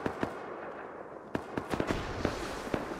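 Rocket explosions in the survival game Rust, set on a busy 10X server, give several sharp booming blasts at uneven intervals, one after another, over a steady background hiss.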